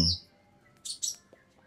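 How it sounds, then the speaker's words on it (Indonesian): A caged songbird gives a few short, bright chirps close by, one at the start and a quick pair near the middle, with quiet gaps between. "kebetulan di sebelah saya ada, ada burung nih yang"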